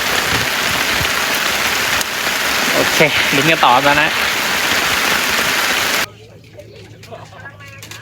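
Steady rain falls outdoors at a fishing pond, a dense close hiss of drops under a voice speaking, then the downpour cuts to a much quieter, thinner patter near the end.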